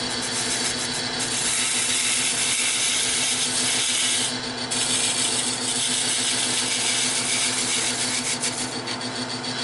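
A round nose scraper cuts into a spinning hexagon-rimmed wooden bowl on a lathe, a harsh, steady scraping rasp with a rhythmic flutter from the rotating corners, close and loud, pausing briefly midway; no talking.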